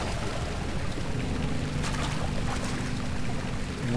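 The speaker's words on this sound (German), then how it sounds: "Muss denn Wasser sein?" Water in the horror video game Amnesia: Justine sloshes and laps steadily, a continuous wet wash of ripples and gentle surf-like motion at moderate level, with no voices over it.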